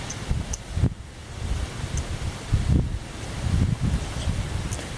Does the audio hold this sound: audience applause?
no